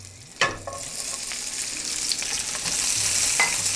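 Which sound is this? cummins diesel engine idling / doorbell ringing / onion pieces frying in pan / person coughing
onion pieces frying in pan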